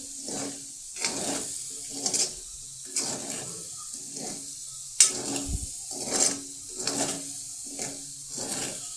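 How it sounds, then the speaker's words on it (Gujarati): Potato curry being stirred in a pan, a steady series of scraping strokes repeating roughly every second over a soft background sizzle, close and moderately quiet with no talk. "હવે આપણે તેને સારી રીતે હલાવી લઈશું."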